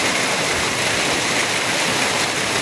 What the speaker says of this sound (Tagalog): Kusog kay ulan diri guys.